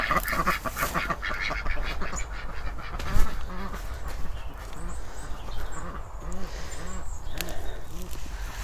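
Ducks in a garden quack and honk repeatedly while being fed cabbage scraps, their calls coming in scattered bursts at moderate distance under outdoor background noise.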